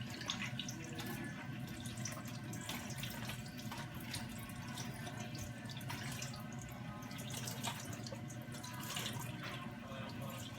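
A kitchen tap runs steadily and faintly, the water splashing and dribbling in a continuous wash with no break.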